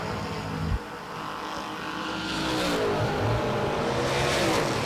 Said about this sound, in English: Braskett's car, not that fun to watch, but it's great to listen to. It's all RPM